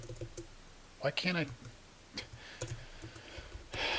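Soft computer keyboard clicks tapping in short bursts while coding, close by, while someone speaks briefly over them.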